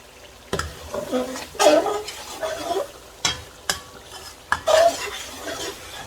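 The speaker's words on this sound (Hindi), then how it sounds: "आपने चमचा चलाते जाना है आराम से।" A spoon stirs chicken qorma in a pot with a few soft scrapes and clinks against the metal over a faint simmer, punctuated by brief louder knocks, with some background voice activity.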